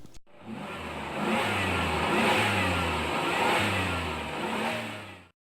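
Race car engines rev at a racetrack, a loud close roar rising and dropping in repeated pulses over a rough mid-range drone before cutting off abruptly, with no voices.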